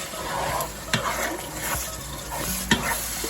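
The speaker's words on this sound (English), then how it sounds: "this thing is frying nicely and the smell is so good" Fish stew ingredients sizzle and fry steadily in a pot, broken by occasional scraping stirs and light clinks of a utensil.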